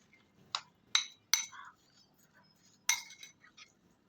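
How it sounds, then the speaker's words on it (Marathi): A spoon clinks sharply against a pot several times while dal with chopped coriander is mixed, the knocks irregular and close with quiet gaps between them. "सगळं छान हलवून मिक्स करून घेऊया"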